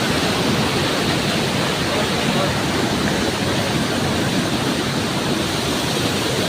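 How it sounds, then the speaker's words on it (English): Waterfall in Karura Forest, a steady, loud broadband roar of falling water that fills the whole clip without a break, close by and continuous. "I want you to enjoy the waterfall."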